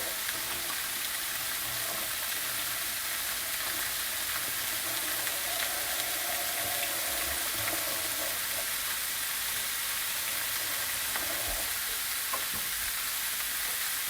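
Ground meat and onion sizzle steadily in a pan for lasagna, a continuous close frying hiss with occasional stirring scrapes and clinks, no talk.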